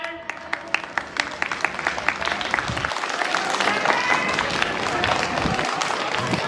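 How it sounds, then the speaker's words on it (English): Audience applause with scattered cheering at a school sports day, building into a dense, sustained wash of clapping across a crowd, with some voices mixed in. "Give a big applause to sir."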